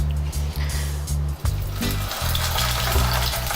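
Two sea bass fillets hit a hot pan and fry, giving a steady, dense sizzle with crackling pops over a low kitchen rumble, without anyone speaking.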